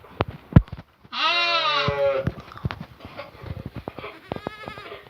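Three-month-old lambs bleat loudly and close by, one long wavering cry followed by another shorter call, with soft shuffling and knocks around them.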